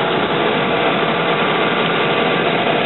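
Steady close engine hum from a 2010 Hyundai Accent 1.6-litre dual overhead cam 16-valve four-cylinder idling, an even continuous drone with no talk.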